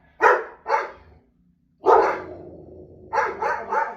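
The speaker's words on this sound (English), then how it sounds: "My dogs are barking at somebody walking by." Several dogs bark at someone walking by, three sharp bursts of clustered barks separated by short pauses, loud and close, with no talk.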